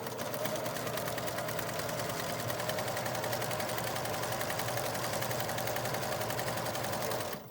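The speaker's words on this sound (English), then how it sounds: "I'm going to be sewing right up here where there's a straight edge." A sewing machine runs steadily for several seconds, stitching a straight quarter-inch seam along the edge of a fabric face mask, with an even, continuous mechanical whir at low volume and no talking.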